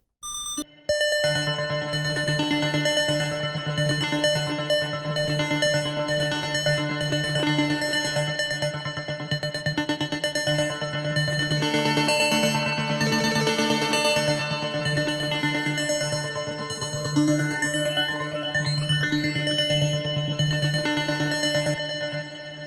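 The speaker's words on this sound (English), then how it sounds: "this preset, the sound you hear, it's like square wavy sparks" A bright synth lead with a buzzy square-wave tone holds one sustained note, sparkling with echo and effects, plus a swooping filtered sweep near the end.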